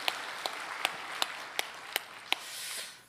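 Applause from a church congregation during a Sunday worship service, a soft even patter of many hands with louder rhythmic claps sounding roughly every third of a second, fairly distant.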